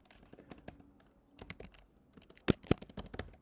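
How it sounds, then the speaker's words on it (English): Keystrokes on a computer keyboard tap out an irregular run of clicks, with a couple of louder, sharper key hits near the end; no one speaks. "I'm going to start typing my name."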